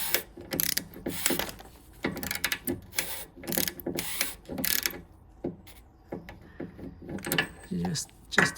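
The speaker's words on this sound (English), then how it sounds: "I'm gonna try my actual ratchet with the angle there." Ratchet with a 32mm socket working loose the transmission filter on a 2011 Volvo XC60 petrol automatic, in an awkward space: repeated short bursts of close mechanical clicking in uneven strokes, with brief pauses between them.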